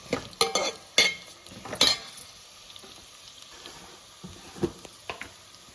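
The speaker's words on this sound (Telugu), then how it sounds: "ఉల్లిగడ్డ వాసన రాకుండా మంచిగా వేయించుకోవాలి" Onions fry and are stirred in a pan for a red lentil egg curry. Scraping strokes and clatters come fast at first, then ease off over a constant sizzle. There is no talking.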